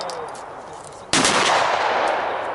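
A single sharp hunting-rifle gunshot cracks loudly about halfway through, its echo decaying over a background of steady outdoor noise.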